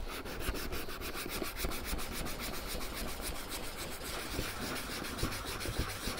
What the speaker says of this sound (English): Start sanding away.